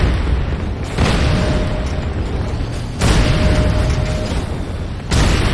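Repeated heavy explosions boom during an attack on a Nod Tiberium Refinery in the video game Renegade, loud and close, with about three big blasts at roughly two-second intervals over constant rumbling battle noise.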